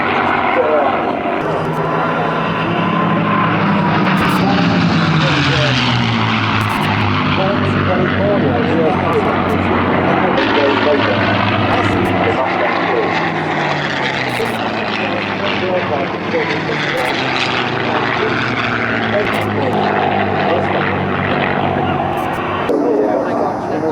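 A propeller warplane flies at the Duxford Flying Legends airshow, its loud droning engine sweeping past with shifting pitch for the whole span, while someone talks steadily over it.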